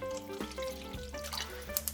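Water being poured into a pot of seasoning sauce made with tuna extract and allulose, a faint splashing trickle with small clinks and drips, quiet and close, no talking.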